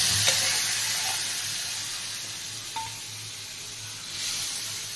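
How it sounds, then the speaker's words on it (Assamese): Masoor dal is tempered in hot oil in a darkened iron wok with dried chillies and five-spice, giving a steady sizzle with light stirring scrapes and a few small clicks and pops throughout. "দাইল তেল মাৰিবলৈ লৈছোঁ"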